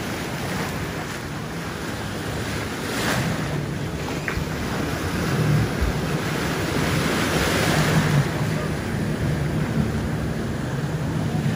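Strong wind blusters steadily at a beach in Panama City, with broadband roar and surf, loud and continuous throughout, no talk.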